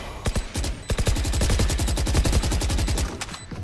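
Shotgun fire in the shooter game Valorant crackles in quick, dense bursts, loud and punchy over a steady run of rapid in-game gunfire.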